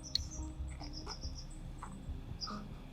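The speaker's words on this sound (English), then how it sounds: "That bird is not happy." Short, scattered bird chirps and calls ring out at moderate distance, some sharp and agitated, over a faint hum of insects in a quiet night setting.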